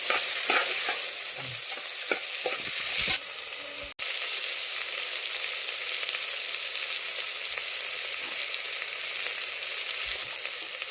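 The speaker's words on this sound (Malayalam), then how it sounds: "അരിഞ്ഞു വെച്ചിരിക്കുന്ന സവാള അതിലേക്ക് ഇട്ട് കൊടുക്കുന്നത് ഇത് ഇത് ഒരു ചെറിയ ബ്രൗൺ കളർ ആവുന്നത് വരെ" Chopped onions sautéing in a pan for a Kerala village-style chickpea curry, a steady close sizzle with scraping stirs early on, then a brief break before the frying hiss carries on evenly.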